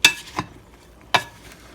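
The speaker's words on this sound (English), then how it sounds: "now I just need to mix this up" A spoon stirs a thick, sticky honey and chocolate panforte mixture, giving three short scraping strokes with quiet gaps between them, close and alone.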